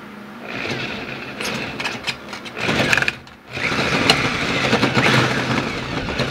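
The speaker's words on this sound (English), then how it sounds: "3/4 inch paddle bit." A drill spins a 3/4 inch paddle bit through wood, a steady close motor whine with grinding bite that dips briefly midway before resuming full load.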